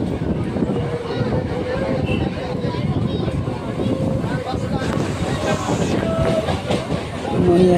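A suburban passenger train near Kakinara and Naihati runs along, heard from inside a lightly crowded carriage as a loud, steady rumble with clickety-clack wheel beats and wind noise, with indistinct voices in the background.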